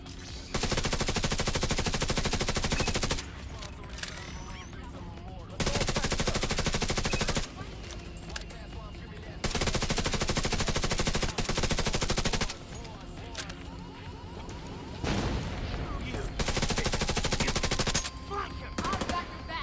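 Heavy turret machine-gun fire in The Division 2 video game, loud sustained bursts of automatic fire lasting a couple of seconds each, alternating with quieter gaps holding faint game sounds and distant voices.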